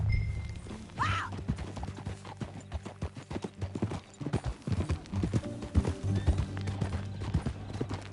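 Horse hooves clip-clop in a quick, steady trot, with a brief whinny near the start, set against a soft background drone, from the video game Red Dead Redemption 2.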